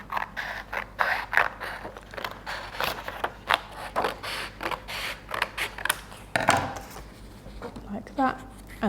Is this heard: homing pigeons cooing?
no